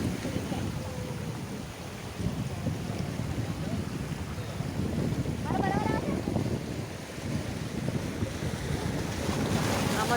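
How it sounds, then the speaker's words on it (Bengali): Sea waves wash ashore at Chidiya Tapu beach near Port Blair, a steady broadband surf roar with wind buffeting the microphone throughout and a faint bird call partway through. "আমার পায়ের সামনে জল এসে পড়ছে"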